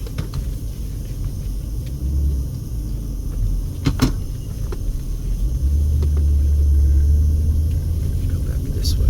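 Car interior during a U-turn on a city street: a steady low road rumble and engine drone that swells toward the end, with a few faint knocks and clicks and no clear talk.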